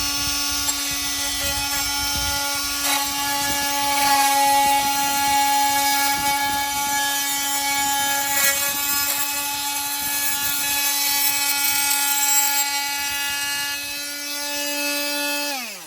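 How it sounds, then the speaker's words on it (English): A battery-powered Makita oscillating multi-tool cuts trim with a loud, steady, high buzzing whine that lasts throughout. It winds down at the very end as the tool stops. "So this is the multi-tool. This one's Makita."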